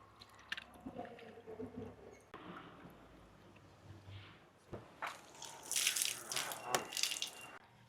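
Old rice is mashed by hand into leftover curry, giving soft, wet squishing and squelching sounds that come in irregular bursts, quiet and close, with occasional small splashes.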